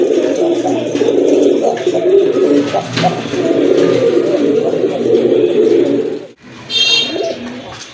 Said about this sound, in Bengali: এখানে আরেক জোড়া রাজগোল্লা কবুতর দেখতে পাচ্ছেন